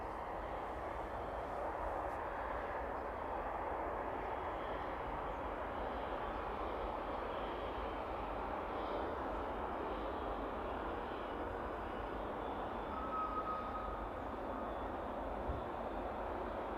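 An Airbus A300 taxis at East Midlands airport, its engines giving a steady, distant, faint whine and rumble that holds level throughout with no talk.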